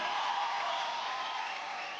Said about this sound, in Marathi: पुन्हा एकदा जोरदार टाळ्या सोनालीसाठी.